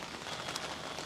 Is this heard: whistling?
no